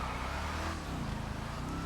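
A Bravado Gauntlet Hellfire muscle car from GTA Online roars with a loud, steady engine drone that holds throughout, full and low, with no talk over it.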